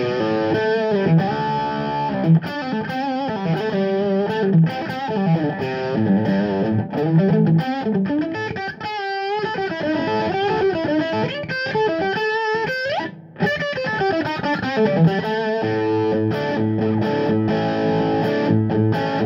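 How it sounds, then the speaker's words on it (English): A 1993 Fender Robben Ford Esprit Ultra electric guitar played through its bridge humbucker pickup, sustained distorted notes and chords with effects, loud and continuous with brief pauses between phrases. "So bridge pickup first on the humbucker."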